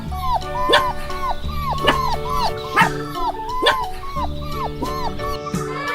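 A puppy yips in short high barks mixed with thin whimpers and whines, repeating in quick bursts close by, with no speech.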